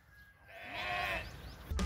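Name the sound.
sheep bleating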